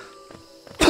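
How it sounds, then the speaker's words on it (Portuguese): A man in a harsh coughing fit during a Hollow Knight speedrun stream: faint breathy sounds, then one loud, close, rough cough burst at the very end. "Me deu crise de tosse."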